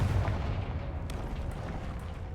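A Confringo blasting spell goes off in Hogwarts Legacy as a loud, rumbling game explosion with deep booming low end that decays slowly, plus a few faint crackles and no voices.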